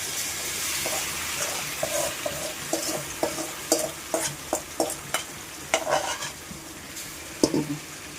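Gravy being stirred into browned onions in a frying pan for chicken gravy, with repeated spoon scrapes and soft clinks over a steady low sizzle, close and fairly quiet, no voices.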